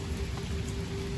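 Steady rain falls on a rainy day, a dense even hiss with a faint tonal hum underneath and no voices.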